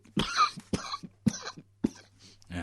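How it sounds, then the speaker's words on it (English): Several harsh coughs come in quick succession, four or five close, forceful bursts spaced roughly half a second apart over a low steady hum. "we're coughing now"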